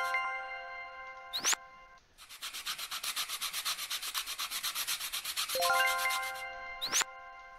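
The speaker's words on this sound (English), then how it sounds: "let's go with the sanding block over here." Rhythmic rubbing strokes of a sanding block on small wooden toy pieces in the Toy Tinker Simulator PC game, a steady run of scratchy passes framed by bright chiming game tones at the start and end.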